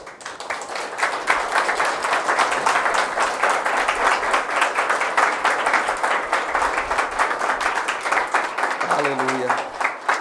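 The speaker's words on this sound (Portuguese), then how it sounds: "Vamos ficar em pé e dar um aplauso a Jesus bem forte." A church congregation standing to applaud during a worship service, with dense, steady clapping filling the room for the whole stretch and a voice rising briefly near the end.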